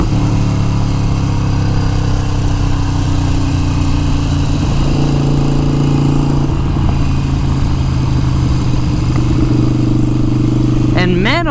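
A Harley-Davidson Iron 883 engine with a Vance & Hines exhaust rumbles steadily with a deep, throaty note, close and loud, with a brief rising whine near the end.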